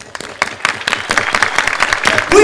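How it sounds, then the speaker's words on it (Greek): Club audience at a Mr. & Miss Beauty 2008 show at Creta Envy Club in Crete applauding, with dense close clapping building over a couple of seconds and some shouts near the end. "ένα μεγάλο χειροκρότημα θα ήθελα τώρα"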